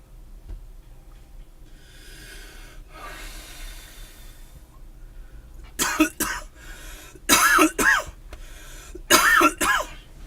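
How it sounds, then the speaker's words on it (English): A man coughs hard several times, with breathy rasping and throat noise at first, then loud, harsh coughs coming in tight clusters of two or three, up close and alone. "Mom's gonna be pissed when she hears me coughing like this"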